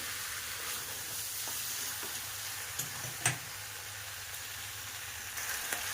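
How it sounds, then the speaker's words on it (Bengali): Chicken meat and potatoes sizzle and sauté in a pan with a soft, continuous hiss, broken by a few sharper scraping stirs and clinks close by. "আলুটা দিয়ে মাংসটা একসাথে খুব ভালোভাবে কষিয়ে নেবো"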